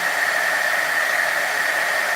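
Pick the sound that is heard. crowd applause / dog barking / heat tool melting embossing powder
heat tool melting embossing powder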